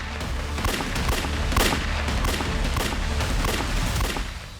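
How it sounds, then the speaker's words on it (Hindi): Rapid gunfire bursts in a TV crime drama, a run of sharp repeated shots over roughly four seconds, loud and close, with no talk over it. "क्या फायरिंग?"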